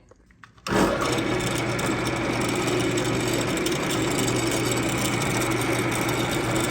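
After a brief quiet moment, a power drill whirs on and keeps running steadily at high speed, loud and close, with a buzzing motor tone, drilling 5/16 inch holes in a Porsche Boxster M96 engine's secondary air injection system.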